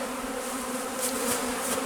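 Honeybees from a bee package buzz continuously during a beekeeping package install, a dense steady drone close by with no talking.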